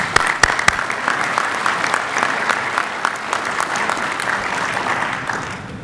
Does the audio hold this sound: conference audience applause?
yes